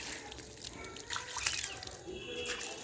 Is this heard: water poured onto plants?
yes